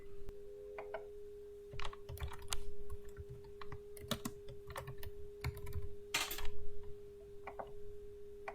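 Quick, irregular bursts of keystrokes on a computer keyboard being used to retype text for custom candle labels, fairly close and clear over a steady low electrical hum, with short pauses between runs of typing.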